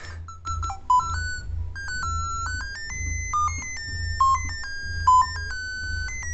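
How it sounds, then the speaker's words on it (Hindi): A melody ringtone from a DIY water tank full alarm built around a UM66 melody IC and a BC547 NPN transistor plays a clear beeping electronic tune, with a steady low hum underneath and no voices. "दोस्तों, यह है एक रिंगटोन वाला वाटर अलार्म।"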